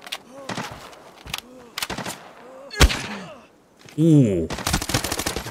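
Arena Breakout gunfire in an armory firefight: repeated sharp single shots and short automatic bursts, close and loud, with a voice reacting briefly amid the shooting.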